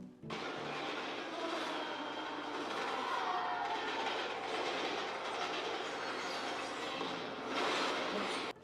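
A train rolls steadily along the tracks, continuous rumble and clatter of wheels with a faint squeal, heard from inside or close by.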